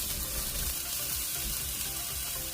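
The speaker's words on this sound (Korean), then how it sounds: "예열된 웍에 식용유 1큰술을 뿌려주고 잘게 썬 당근을 넣고 중불에서 볶아줍니다." Finely chopped carrots stir-frying over medium heat in a tablespoon of cooking oil in a preheated wok, a constant dense sizzle with soft scraping and tossing underneath, close and steady throughout.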